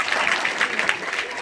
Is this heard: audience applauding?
yes